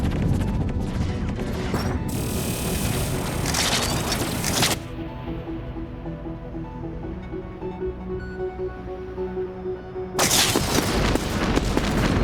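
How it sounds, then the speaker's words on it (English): Missiles launch and burst in a space battle in the strategy game Endless Space 2, with dense bursts of explosive blasts at the start and end framing a quieter stretch of mechanical whirring and tonal game music in the middle. "Missiles away."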